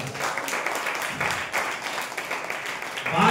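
A church congregation claps loudly and continuously, a dense, close burst of many hands that keeps an even pace and swells slightly at the end.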